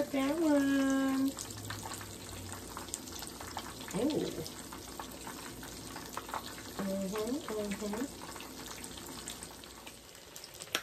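Rotel dip balls deep frying in hot oil, a steady crackling sizzle running throughout with brief clatters of utensils as the pieces are flipped.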